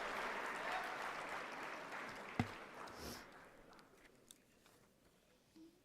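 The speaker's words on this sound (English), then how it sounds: "One more round of applause." Applause for an award recipient at a university athletics awards ceremony, a soft crowd patter that fades steadily over a few seconds, with one sharp close clap near the middle.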